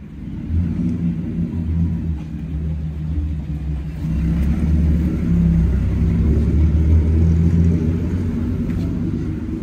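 A small Chevrolet car drives along a road in Bariloche, Argentina, giving a loud, low engine rumble that builds as it passes close by and stays heavy to the end.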